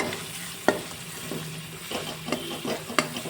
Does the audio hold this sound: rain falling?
no